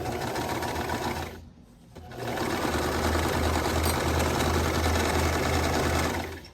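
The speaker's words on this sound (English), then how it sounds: "I'm going to sew it, like I said, corner to corner." A sewing machine stitches quilt binding corner to corner with a steady, fast mechanical chatter. After one brief pause it runs on continuously at close range.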